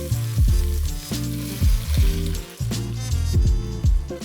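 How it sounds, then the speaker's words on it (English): Four 28-ounce cans of tomatoes splash into a 6.5-quart Dutch oven of sizzling sausage, loud repeated wet plops and pours over a steady frying hiss, close by. "now we're gonna get the tomatoes in"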